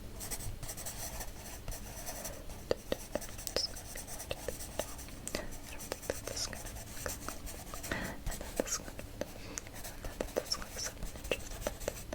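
A pen or pencil scratches and taps across paper up close in a quiet room, with soft irregular strokes and small clicks coming in a steady stream.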